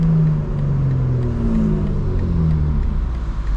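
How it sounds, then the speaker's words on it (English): A 2025 BMW M4 Competition with the S58 engine revs loud and close on a drive, a deep, sustained engine roar with a shifting pitch that holds for the whole stretch. "the S58 doesn't sound that great, eat your heart out, because that sounds phenomenal"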